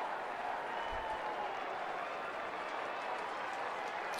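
A baseball crowd of almost 36,000 at a night game cheers and claps in a steady, dense roar, with broad crowd noise holding loud and even throughout.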